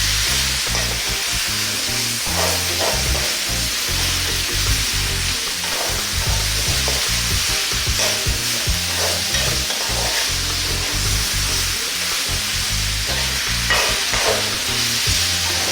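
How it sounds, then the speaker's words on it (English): Pork pieces with chili stir-fry in a hot pan for a Sri Lankan pork curry, giving a loud, steady sizzle broken by frequent scraping and clattering from stirring, with no talk. "we're going to stir fry this around for about 7 or 8 minutes"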